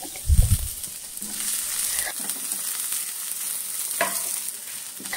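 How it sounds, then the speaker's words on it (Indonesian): Garlic, crushed and coarsely chopped, sautéing in a little oil in a pan, a steady soft sizzle with stirring scrapes and a brief louder clatter at the start. "Kita tumis bawang putihnya dengan sedikit minyak."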